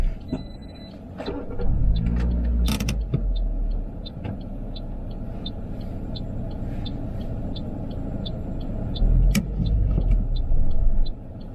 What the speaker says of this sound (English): whenever you're ready, you can do a hill start